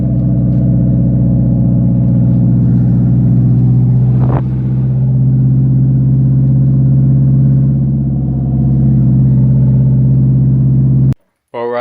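A repaired daily-driver car with its exhaust off runs loud and close, a deep steady rumble with a brief rev swell partway through, then cutting out near the end.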